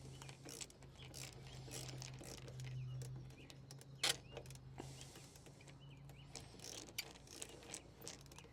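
A ratchet clicks quietly as it undoes the bolts on a Chevy Silverado reverse light assembly, with faint intermittent ticks and mechanical creaks under a low steady hum and no talking.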